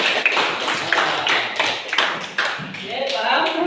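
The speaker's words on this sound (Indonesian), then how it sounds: "tepuk tangan ke Tio" Classroom applause for a student named Tio in a religious education lesson, a burst of scattered hand claps under a teacher's voice and other chatter.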